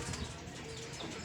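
Brief flurry of wingbeats as a racing pigeon lands at the loft during a race, soft and nearby with faint background noise, no talk.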